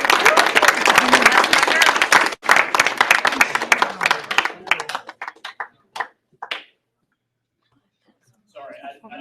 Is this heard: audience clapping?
yes